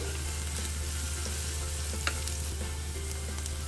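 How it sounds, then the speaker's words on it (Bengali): Onions sizzle steadily in a hot pan for a cowardly-fish curry, with faint scraping strokes of a spoon stirring through them and a single sharper clink near the middle. "এখন আমি নাড়াচাড়া একটু দিই"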